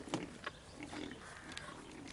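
Pigs headed to market oink and grunt faintly against a noisy, muffled background, with a few louder snorts near the start.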